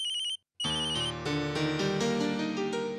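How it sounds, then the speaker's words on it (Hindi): A bright electronic phone ringtone plays a repeating melodic jingle, briefly cut off before resuming louder and fuller, with no voices. "अचानक आपका फोन आ गया"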